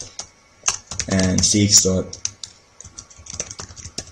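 Typing on a computer keyboard while setting up a Squid proxy server on Linux: a quick run of close keystroke clicks, at times under a voice.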